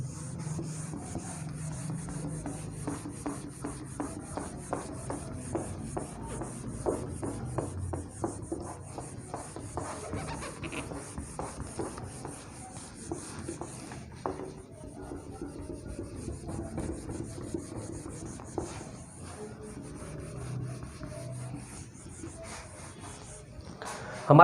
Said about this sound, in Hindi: इसे मैं एक बार रब कर देता हूं